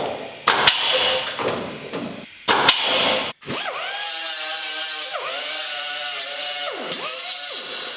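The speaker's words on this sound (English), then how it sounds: "I'm gonna punch 2 or 3 holes in this." Holes being punched in the sheet-metal quarter panel of a 1959 VW Beetle during restoration: a couple of sharp metallic strikes, then a shrill tool whine that dips and rises several times.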